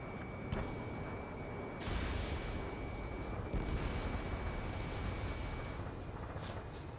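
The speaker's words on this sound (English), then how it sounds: "Fire! Missile away." Missile launch and blast in the Ace Combat flight game, a roaring wash of rumble with a sharper surge partway through, continuous and loud with no talking over it.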